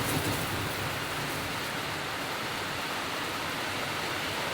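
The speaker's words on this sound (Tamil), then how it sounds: "நல்லா மழை பிடிச்சிச்சு" Heavy, steady rain pours down continuously in the hills during a Yamaha RX100 ride, a dense unbroken wash of noise with no voices, close and loud throughout.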